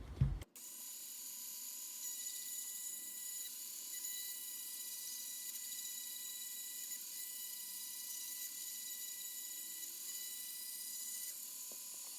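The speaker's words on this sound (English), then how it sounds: "I'm using a Dremel or either this machine" A Dremel rotary tool trims a plastic Tamiya Mini 4WD MA suspension part, a steady high-pitched whine that holds constant for over ten seconds after a brief clunk at the start.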